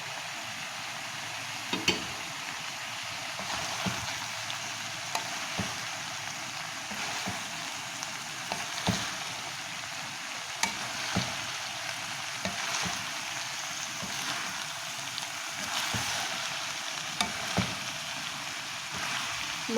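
Tomatoes and ketchup sizzle in a pan with keema macaroni and cabbage, giving a steady broadband frying hiss with occasional soft clicks and stirring scrapes throughout, fairly close and without talk.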